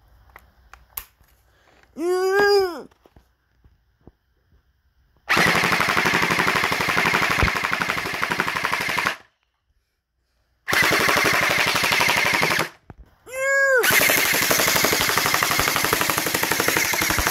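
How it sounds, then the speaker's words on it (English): Toy gun firing on full auto, rapid bursts of loud mechanical shots in several long runs separated by short silences, with brief tonal voice-like squeals between bursts. "And so you guys can see it's actually shooting. And it's loud."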